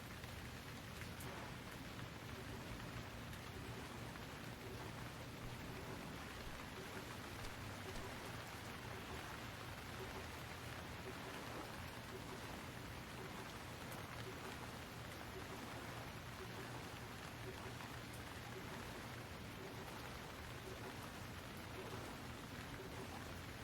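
Steady rain pours down in the survival video game Stranded Deep, a dense, even hiss of falling drops that holds unbroken throughout, with a faint low rumble of thunder beneath and no voices.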